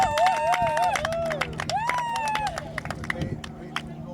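A church congregation at a baptism service claps and cheers. Scattered hand claps and crowd noise sit under prominent singing or ululating voices and chatter.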